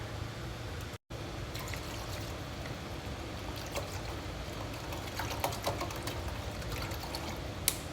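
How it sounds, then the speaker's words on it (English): Water from a bottle poured steadily into a pot of flour for gravy, a continuous close liquid stream running the whole time with a brief dropout near the start. "I'm gonna add a bottle of water."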